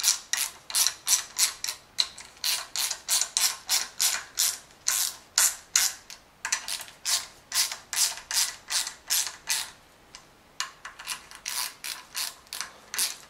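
A ratchet wrench tightens the VANOS bolts on a single-VANOS BMW M50TU/M52/S50/S52 engine, giving a long run of quick, close, rapid clicking strokes with brief pauses between bursts, with no talking.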